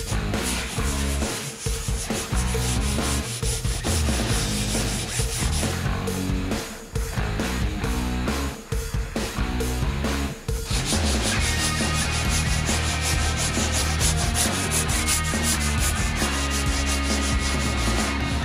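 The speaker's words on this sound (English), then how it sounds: "I'm gonna sand. I gotta sand. Sanding again." Hand sanding of an aircraft engine cowling: a loud, continuous abrasive rubbing with rapid back-and-forth strokes, close up and dense throughout, briefly pausing midway before resuming even harder.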